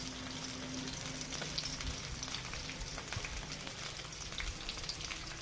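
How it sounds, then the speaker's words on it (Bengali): Chopped onions frying in a pan for a snakehead fish and bottle gourd curry, a continuous, even crackling sizzle at low volume with faint occasional stirring and no talking. "পেঁয়াজ কুচিটা ভেজে নেব।"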